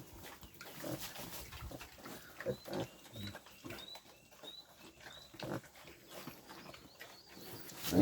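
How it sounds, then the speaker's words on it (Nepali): A pig let out of its pen grunts and snuffles close by as it starts rooting around, with scattered soft high squeaks and shuffling, and a person talks intermittently in the background. "अनि सुँगुर चाहिँ यसरी बाहिर निकालेपछि हेर्नुहोस् है, अब यहाँ यसले उधिन थालिहाल्छ है।"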